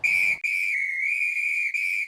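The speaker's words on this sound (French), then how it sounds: "c'est un dispositif sonore comme un sifflet" A safety whistle blown on the water gives a loud, shrill, steady blast lasting about two seconds, with a brief break near the start and another near the end, heard alone.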